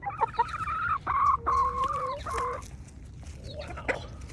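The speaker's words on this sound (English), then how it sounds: "Feed neighbors' chickens" A neighbor's chickens cluck and call at close range, a run of clear, rhythmic clucks and a few drawn-out cries with short pauses between, with no voices over them.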